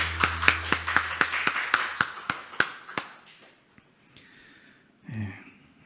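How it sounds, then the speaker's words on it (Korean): In a church service, sharp rhythmic claps ring out about a dozen times in steady succession, then stop, leaving quiet room tone and a brief low breathy sound near the end. "우리 하나님께 영광의 박수를 드리겠습니다"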